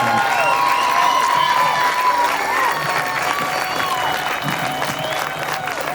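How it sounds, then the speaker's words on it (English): Applause from an audience at a Red Corner benefit event, a steady wash of clapping that holds through the whole stretch, with crowd murmur and some voices mixed in. "round of applause for him"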